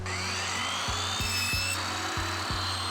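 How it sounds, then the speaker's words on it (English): A chop saw cuts a peel-and-stick shiplap plank, its motor whining steadily and loudly up close while the blade bites through the material with several quick dips in pitch. "We're going to be cutting with our planks with this chop saw"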